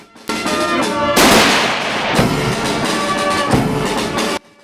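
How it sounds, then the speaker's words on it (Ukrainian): Rifle volleys fired as a gun salute at a military funeral held at a cemetery in Sumy, loud and close: a sharp crack, then a long rolling echo, more shots following. "Бійцям віддали шану пострілами"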